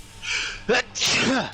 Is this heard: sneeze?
yes